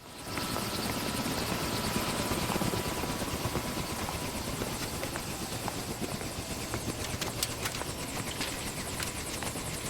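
A helicopter in the Ace Combat: Assault Horizon video game, its rotor drone steady and loud throughout with a dense, continuous thrumming and no voices.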